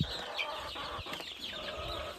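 Chickens cluck softly in the background amid scattered rustling and faint farmyard noise in a muddy, rain-flooded coop, with no clear voices.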